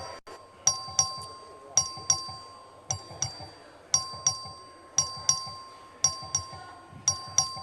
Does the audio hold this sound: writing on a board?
no